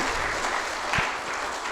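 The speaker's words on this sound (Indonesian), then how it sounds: "Ayo tepuk tangan dulu buat Tuhan Yesus, luar biasa sekali." A church congregation claps together in praise during a sermon, a brief burst of dense, even applause filling the room with a single louder thump partway through.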